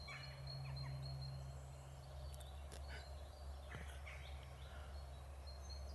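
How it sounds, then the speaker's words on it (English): A turkey gobbles repeatedly over steady low hum and background noise, the calls fairly faint and somewhat distant, with no talk over them. "What kind of bird is that?"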